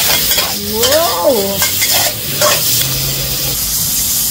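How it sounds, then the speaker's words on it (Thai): Wagyu beef stir-fried with holy basil, fried garlic and chili in a wok over high heat, a steady loud sizzle and hiss with scraping stirring strokes throughout, no talking. "ผัดกะเพรานรกโลกัน เนื้อไทยวากิว"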